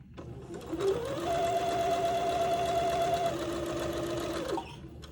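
A sewing machine stitching the hemline of a Christmas dress, running in one steady whirring burst of rapid needle strokes for several seconds before stopping, close and clear with no talk.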